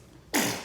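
A single sudden sneeze bursts out after a moment of near quiet, sharp and close, trailing off quickly.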